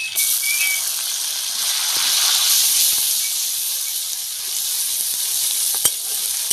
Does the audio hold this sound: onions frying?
yes